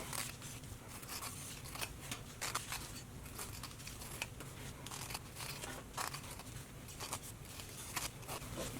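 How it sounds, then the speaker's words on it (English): Scissors trim foam flush with the side edges of fabric in a run of quiet, close snips and soft crinkles that come in an uneven rhythm. "we're going to trim the foam even with the side edges of the fabric"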